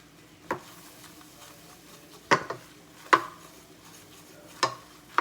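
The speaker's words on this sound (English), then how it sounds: "You want to mix it good, get it all really good and mixed in and incorporated into all that butter." Flour being stirred into melted butter in a pan for mac and cheese, heard as quiet scraping with a handful of sharp utensil clacks against the pan spaced a second or so apart.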